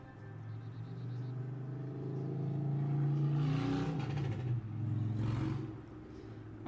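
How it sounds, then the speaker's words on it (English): A loud car roars past outside, its engine rumble swelling to a peak and then fading away. The sound is heard indoors and fairly close. "could that car have been any louder?"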